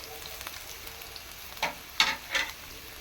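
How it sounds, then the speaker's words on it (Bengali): Ground ginger and green chilli paste dropped into a hot pan for a Bengali banana-stem dish, a quiet sizzle with a few sharp scrapes or spatters near the end. "আদা আর কাঁচা লঙ্কা পিষে রেখেছিলাম সেটা দিয়ে দিলাম"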